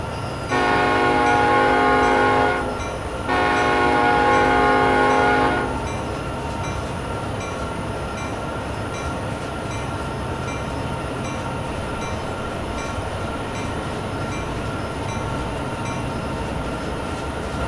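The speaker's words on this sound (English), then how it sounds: "we have to wait for the brakes to release all the way down the train maybe before we actually get moving there" A long freight train locomotive starts off on the Sherman Hill Cheyenne–Laramie route in Train Sim World 2. Two loud, sustained horn blasts sound, followed by a steady low engine and rail rumble.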